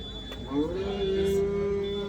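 A cow bellows at the Sangola cattle market, one long drawn-out moo rising then holding steady for over a second, close and loud above a murmur of market noise.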